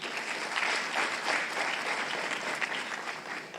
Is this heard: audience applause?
yes